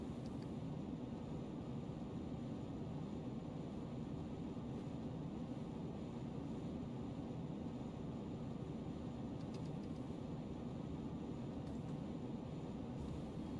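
A rocket roars steadily through liftoff in Juno: New Origins, a continuous broadband rushing rumble that stays even and fairly faint throughout.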